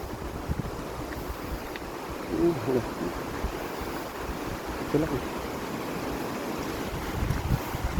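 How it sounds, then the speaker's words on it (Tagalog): River water rushing steadily beside a mountain road crossing near Real, Quezon, a continuous broadband flow mixed with gusty wind buffeting the microphone, with no voices over it. "Ito muna tayo sa may ilog."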